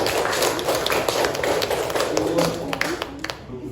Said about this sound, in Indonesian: jadi kita beri aplaus untuk kelompok